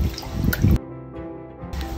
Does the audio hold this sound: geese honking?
no